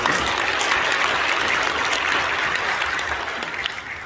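Steady, dense applause fills a church hall, a congregation clapping continuously and loudly throughout with no talking over it.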